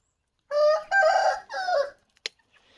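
A rooster crows in a farmyard among many animals, a single loud, close three-part call followed by a couple of short soft clucks.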